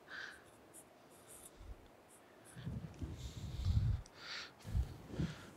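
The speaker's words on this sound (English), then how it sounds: "So let me get my Sharpie over here. And we'll write up here 40." Sharpie marker writing a number on metal in a machine shop during a horizontal boring mill restoration, short scratchy strokes close up, growing louder toward the end, with no talking.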